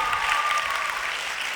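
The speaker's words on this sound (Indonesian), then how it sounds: "Oke, tepuk tangan." An audience claps in a brief, even burst of applause at moderate volume, heard alone without voices.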